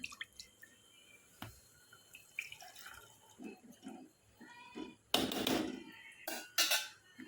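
Faint drips and small clinks, then two short splashing bursts of water being poured off peas close by, in a quiet setting.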